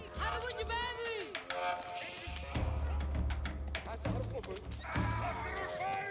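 Horse archers in Age of Empires IV whinny and neigh repeatedly over the clip-clop of galloping hooves, with battle noise and talk going on throughout.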